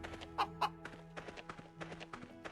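Chickens cluck in the video game God of War, with a couple of louder clucks early on followed by a run of quieter, irregular clucks against a faint hum.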